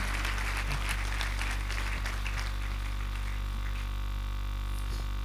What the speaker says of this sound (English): keep celebrating by putting our hands together for him